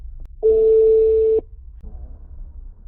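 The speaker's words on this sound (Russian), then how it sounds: "Попробуй совершить звонок." A call placed from a Pixel 5 phone connected over Bluetooth to a 7-inch Android multimedia unit in a car, giving one loud steady tone about a second long, then a quieter tone, close and alone.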